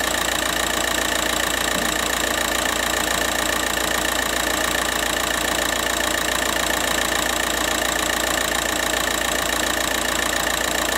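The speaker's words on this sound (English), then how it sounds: "with the engine running" A car engine idles steadily during a cooling system service, producing an unbroken, even mechanical hum with a faint rapid knocking texture and no voices.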